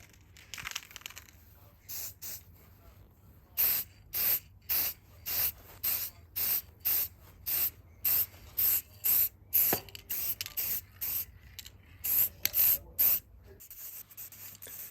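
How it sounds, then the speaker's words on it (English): Someone presses an aerosol spray paint can nozzle, releasing a long series of loud, close, regular short hisses, roughly one every half second, while paint is applied to Triumph Street Triple 675 engine case protectors, with no talking. "Now if you listen carefully, you can hear me press the nozzle a couple of times."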